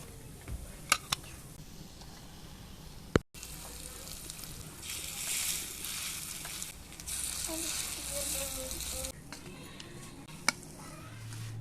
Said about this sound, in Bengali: লাল লাল করে ভেজে নিয়েছি এখন উঠিয়ে নেবো